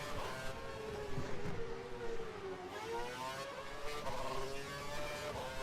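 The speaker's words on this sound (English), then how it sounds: "Just doing a bit of stop and goes, accelerating and slamming the brakes" Race car engine in a racing video game at Monza, run through stop-and-go bursts of acceleration and hard braking; a steady, fairly quiet engine whine rises and falls repeatedly, with no talking.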